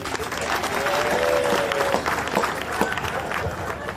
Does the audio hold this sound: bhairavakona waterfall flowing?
no